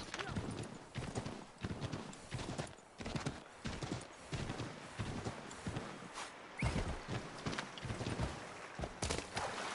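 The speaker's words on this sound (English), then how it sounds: "Horsey!" Horse hooves in Assassin's Creed 3, a quick rhythmic clip-clop gallop that continues steadily throughout at a moderate level.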